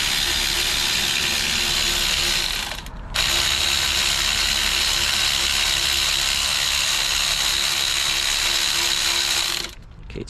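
Ratchet driving the lower alternator bolt on a Toyota Corolla, a steady close rapid clicking that runs almost continuously with two brief pauses, no talking.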